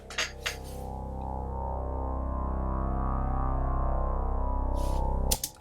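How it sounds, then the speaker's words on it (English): A sustained synthesizer drone with its filter slowly sweeping up and down, heard alone, with brief clicks at the start and end. "So you could call it a filter sweep."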